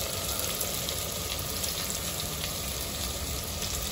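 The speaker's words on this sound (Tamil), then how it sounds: "வெங்காயம் பூண்டு வதங்கிட்டு இருக்கு" Onion and garlic, with green chillies and curry leaves, sautéing in oil in a clay pot: a close, continuous, even sizzle and crackle with no talking.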